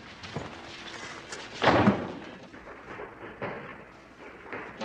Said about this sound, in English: Close that door, Billy.